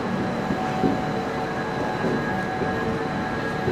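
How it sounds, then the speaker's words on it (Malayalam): An Indian Railways ICF-coach express train slowly pulls out of Guntur Junction, heard from inside as a steady rumble and clatter with faint tonal hums, continuous and moderately loud, with no talk. "അപ്പം നമ്മളങ്ങനെ പതുക്കെ ഗുണ്ടൂർ ജംഗ്ഷനിൽ നിന്നും പുറത്തേക്ക് ഇറങ്ങുകയാണ്."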